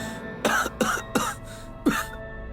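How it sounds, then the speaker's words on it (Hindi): Four loud, harsh coughs in an uneven rhythm from someone with something stuck in the throat, each a sharp close burst with short pauses between. "जोर से खांसो।"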